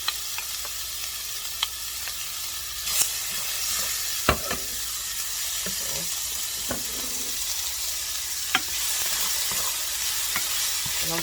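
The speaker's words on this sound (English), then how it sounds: "Now I'm going to add my onions and my garlic." Onions and garlic sautéing in a pan after chicken has been browned, a steady close sizzle with soft stirring scrapes and occasional sharp clicks of a utensil against the pan.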